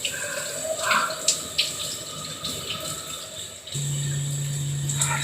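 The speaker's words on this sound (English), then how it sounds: "So I'm still rinsing." Running water rinses dye out of hair locs at a sink or tap: a continuous splashing flow with a few louder gurgles, then a steadier stream toward the end.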